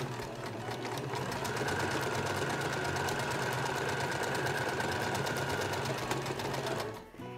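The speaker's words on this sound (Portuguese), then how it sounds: "Eu tô costurando de branco." Sewing machine stitching a skirt with white thread, a steady fast mechanical whir and rapid needle chatter running continuously, close and loud, before stopping near the end.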